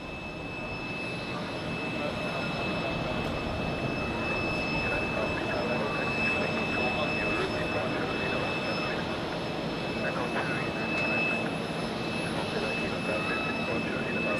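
Jet engines of airliners lined up for departure on runway 16, heard from the observation deck at Zurich airport as a steady, moderately distant roar and whine with faint talk over it.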